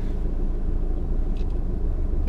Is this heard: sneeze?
no